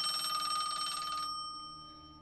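A telephone bell rings in a steady trilling burst for just over a second, then stops and leaves a faint fading hum.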